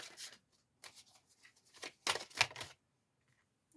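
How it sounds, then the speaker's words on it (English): Tarot cards being shuffled by hand in short riffling bursts with brief pauses between them, close and fairly quiet, with no talking. "So I'm going to shuffle it whilst you think of a question"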